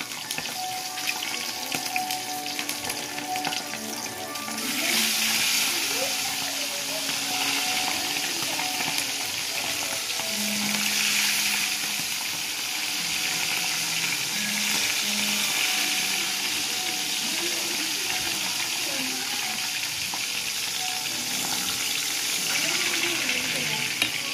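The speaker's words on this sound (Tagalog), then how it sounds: "Start na tayo magprito guys." Hairtail fish sizzles in hot oil, a steady hiss that swells after a few seconds and carries on, with faint background voices and clinks.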